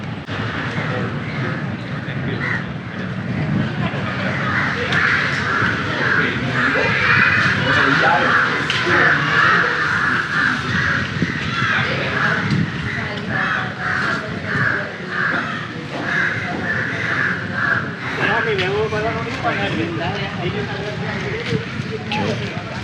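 Crows caw loudly and repeatedly around a lakeside street in Kandy, Sri Lanka, harsh calls layered over a constant din of traffic and crowd noise, with people talking now and then.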